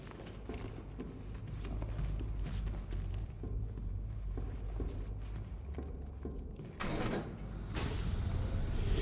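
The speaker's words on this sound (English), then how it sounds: "Shutting the vault door will contain the blast." A heavy vault door in Batman: Arkham Knight grinds and rumbles as it slides shut, a loud continuous mechanical rolling that ends in a burst of hissing noise.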